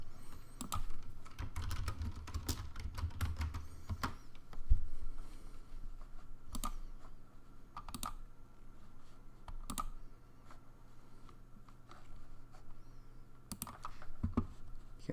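Someone types on a computer keyboard, sharp close keystrokes coming in quick irregular runs and scattered single clicks over a quiet room hum.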